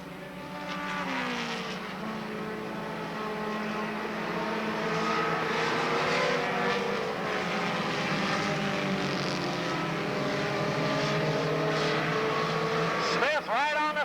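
Race cars roar around Monadnock Speedway at a 1993 short-track event, engines droning and rising and falling in pitch as they pass, loud and continuous with a commentator talking over the noise.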